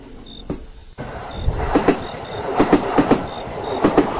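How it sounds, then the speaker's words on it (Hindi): A train pulling away: a start-up thump, then rhythmic clickety-clack of wheels on rail joints with faint squealing, steady and moderately close. "ट्रेन ने 2 बार हॉर्न दिया और धीरे धीरे चल पड़ी।"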